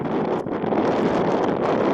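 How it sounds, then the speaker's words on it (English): Steady, loud wind buffeting the microphone outdoors on U.S. Highway 93 in Stevensville, Montana, a continuous rumbling roar with gusty fluctuations throughout and no voices. "It's windy out here, and I'm blocking it with my body and everything else."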